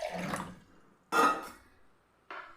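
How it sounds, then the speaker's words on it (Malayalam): Water splashes into a mixer grinder jar in three short pours, each a brief liquid gush close up, separated by quiet pauses. "മിക്സറി ജാറിലേക്ക് നമുക്ക് വെള്ളം കൊടുക്കാം"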